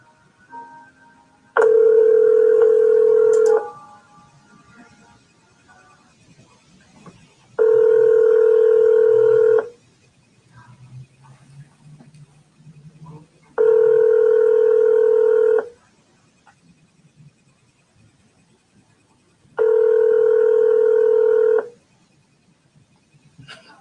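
A telephone rings out on a live stream call, with four evenly spaced, steady two-tone ring bursts, each about two seconds long, separated by quiet gaps of faint background noise.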